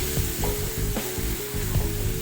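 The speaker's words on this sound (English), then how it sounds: "I'm now adding in a medium-sized onion, roughly cut. And since we are making a Makhanwala, I'd like to add some butter." Roughly cut medium onion sizzling in butter in a pan for paneer makhanwala, a steady close frying hiss with a low hum and soft clinks of stirring throughout.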